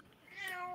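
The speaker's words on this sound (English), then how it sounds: "Oh, there's my cat. Meow." A pet cat gives a single drawn-out meow that rises and holds, close and clear, with no talking over it.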